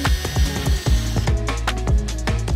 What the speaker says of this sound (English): Drilling through a brand new paint job